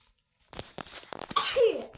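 A single close sneeze bursts out abruptly after a moment of quiet, followed by a short breathy trailing sound.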